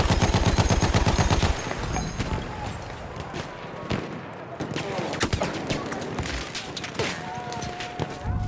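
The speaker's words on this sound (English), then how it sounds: "Machine gun, look right!" Bursts of machine gun fire in Battlefield 1, a rapid stuttering volley up front followed by scattered shots and battle noise, with voices shouting over the fighting.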